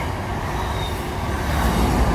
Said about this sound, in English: Absolutely beautiful train.